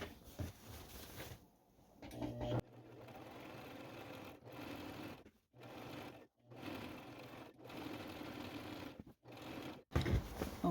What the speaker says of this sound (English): I can line my presser foot edge up with this 1st row of stitching and just go across